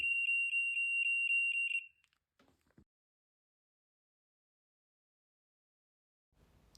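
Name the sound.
manually triggered alarm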